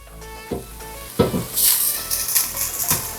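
Onion frying in a pan for Polish beetroot buraczki, a close bright sizzle swelling after a couple of stirring knocks, with hissing bursts and scraping throughout, no talking.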